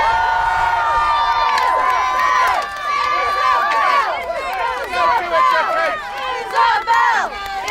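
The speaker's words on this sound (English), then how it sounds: "Cheer your champion!" A crowd cheers and shouts for the champion at a Renaissance fair joust, loud and continuous, with overlapping excited voices and whoops rising and falling throughout.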